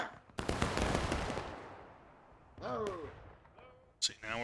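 Musket volley in the War of Rights video game at Dunker Church, heard as a loud crackling burst of many shots that fades over about a second, followed by voices calling out in the game.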